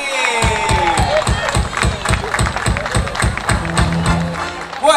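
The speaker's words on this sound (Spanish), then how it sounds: "un aplauso para Andy" Crowd applause at a beer festival, rhythmic clapping in a steady beat that carries through, with voices mixed in over the clapping.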